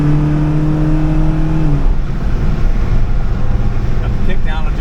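A 1980 Camaro with a 383 stroker V8 running Sniper 2 fuel injection, its engine droning and revving steadily up close, with a tonal whine early on and a voice talking over part of it.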